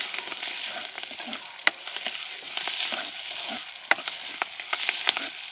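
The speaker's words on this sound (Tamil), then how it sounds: "எங்களுக்கு வெங்காயம் செத்தலெல்லாம் நல்லா பொரிஞ்சிட்டுது. இனி நாங்கள் இறக்கி இந்த தாளிப்பை வந்து கறியோடு சேர்த்து விட போகிறோம்." Curry leaves and onions frying in oil for a tempering, a steady close sizzle broken by sharp clicks and pops from spoon stirring, no voices.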